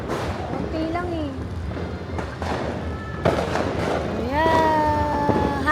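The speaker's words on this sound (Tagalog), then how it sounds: "Yun nga masyado yung putok nila eh." New Year fireworks burst in a series of sharp, booming explosions, some near and some farther off, with crackling tails. People talk and call out excitedly over the blasts.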